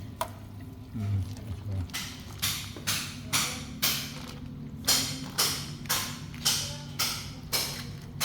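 Ground garlic stirred into a hot frying pan for oxtail soup, giving a steady run of evenly spaced scraping, sizzling strokes close by, about one every half second, over a low background hum.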